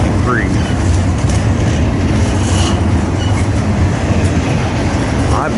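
A freight train carrying 53-foot intermodal containers rolls past close by on the Harrisburg line. It makes a loud, continuous rumble with rhythmic wheel clatter and faint brief squeals over it.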